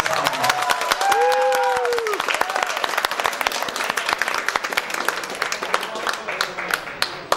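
An audience at a meeting breaks into loud, sustained applause of rapid overlapping claps with some cheering, while voices carry over the clapping early on.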